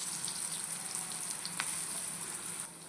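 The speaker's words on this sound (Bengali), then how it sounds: "হালকা হালকা আঁচে আমি ভেজে নেব" Slices of bottle gourd fry in hot oil on a tawa over low heat, giving a steady, even sizzling hiss that stays constant throughout at close range.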